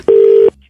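A telephone sounds one loud, steady electronic ring tone lasting under half a second, standing alone with no voices around it.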